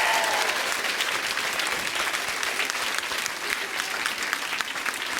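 A studio audience at a French evening talk show claps in a continuous, even wash of applause that keeps up for the whole stretch, with no voices on top.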